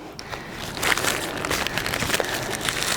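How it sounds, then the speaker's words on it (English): A duck mummy covered in natron is shaken inside a plastic bag, giving close, irregular crinkling and rustling bursts that grow busier toward the end. "I'm going to shake him off into the plastic bag because he is going to be covered in natron"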